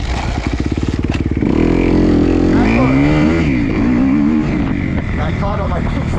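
A dirt bike's engine revs and shifts quickly into second gear during harescramble practice, loud and close with a pulsing idle building into rising, climbing engine tones, and a person talking over it.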